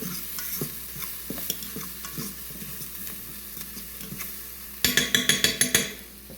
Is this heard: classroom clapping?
no